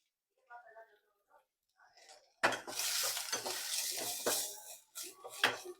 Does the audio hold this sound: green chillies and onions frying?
yes